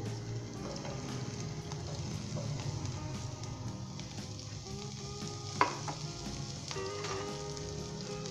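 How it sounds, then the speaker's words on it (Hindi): Onion and garlic frying in vegetable oil, a steady bright sizzle with occasional stirring scrapes and one sharp utensil clink, close and continuous with no talking. "वेजिटेबल ऑयल शामिल करेंगे, उसके बाद हम इसके अंदर प्याज शामिल कर देंगे, लहसुन शामिल कर देंगे"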